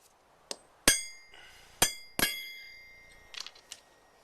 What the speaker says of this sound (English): To mark these, I'm just going to use my nail punch.